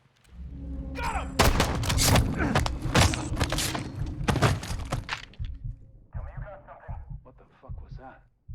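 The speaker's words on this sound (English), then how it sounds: "You did not hear the gunshots?" Several sharp, loud gunshot-like bursts from a video game, overlapping with voices talking, followed by quieter scattered noises.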